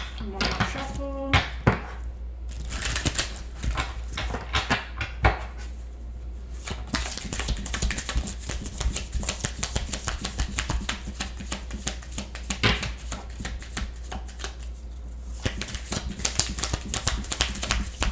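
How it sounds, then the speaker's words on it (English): Tarot cards are shuffled over and over, a dense run of crisp flapping and riffling that goes on steadily, close and fairly loud, with a few brief knocks mixed in. "One more shuffle."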